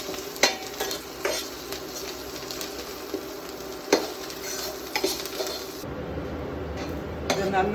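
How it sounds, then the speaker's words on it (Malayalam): Coriander and curry leaves frying in hot oil for fish vindaloo, a steady soft sizzle with repeated stirring clinks and scrapes of a utensil in the pan, close and moderately quiet. "കുറച്ച് മല്ലിയില, കറിവേപ്പില, ഇത് ഇത്രയും ഇട്ട് നന്നായി ഒന്ന് ചുമക്ക എന്ന് വറുത്ത് കോരണം"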